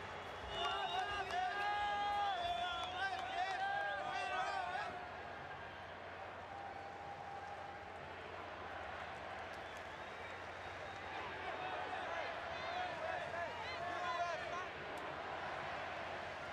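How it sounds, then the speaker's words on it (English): A large football stadium crowd at a Concacaf Gold Cup match between the United States and Canada, a broad continuous roar that is loudest at first and then settles into a steady distant din under a commentator's voice. "And the crowd roars its approval."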